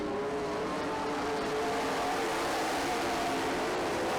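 Race cars howl around a track in a continuous engine roar late in a race, the sound staying dense and loud throughout as cars run past in single file.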